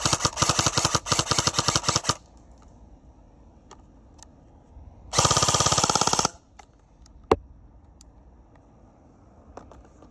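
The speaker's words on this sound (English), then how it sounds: "Full auto, yes again, quite a decent fire rate." SSR4 airsoft BB gun firing full auto in two rapid bursts of mechanical rattling shots, close and loud, separated by a quiet pause with a few isolated clicks.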